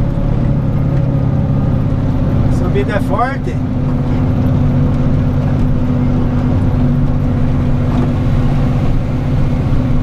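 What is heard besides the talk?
dump truck engine climbing uphill in second gear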